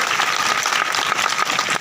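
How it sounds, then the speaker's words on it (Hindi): Loud, dense applause from an audience welcoming the principal at a school farewell party, a steady roar of clapping filling the whole moment without a break. "एक बार जोरदार ताली बजा करके हम माननीय प्रिंसिपल सर का स्वागत करेंगे"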